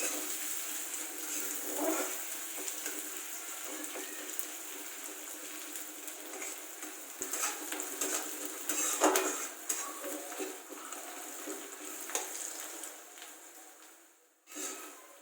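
Onion frying in a pan toward golden brown for a paneer curry, a steady close hiss of sizzling oil with occasional utensil scrapes throughout, no talking.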